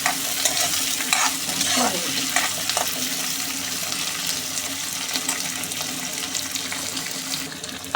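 Onions frying in a pan for a pea and mushroom curry, with a continuous loud sizzle and scraping stirring strokes near the start, then steady frying with no voices.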